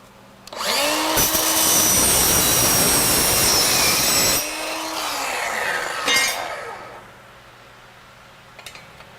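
An angle grinder with a disc cleans up a rough steel piece for a welding table project, a loud harsh whine lasting several seconds, then a short second burst before it winds down.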